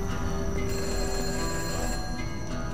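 A telephone rings continuously in the horror game The Light Remake, a dense, loud electronic bell tone filling the space without pause.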